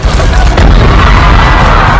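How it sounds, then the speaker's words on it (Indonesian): A gas explosion set off by burning hay near a dance floor, heard as a loud, sustained, rumbling blast that fills the whole short stretch with dense noise. "kebakaran tersebut memicu ledakan gas."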